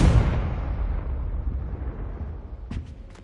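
A Confringo blasting spell from the Hogwarts Legacy video game bursts loudly at the start, then a rumbling explosive decay fades over a few seconds, followed by a few faint sharp crackles near the end.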